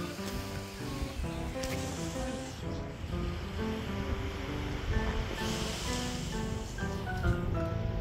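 Sea waves wash steadily onto a clean shoreline, a continuous rolling surf roar with some wind, heard alone without talk.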